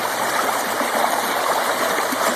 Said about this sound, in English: dropping the water back to the bottom of the pan